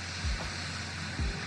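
Ocean waves ambient track played from an ION Bright Max speaker, a steady hiss of surf with two soft low thumps.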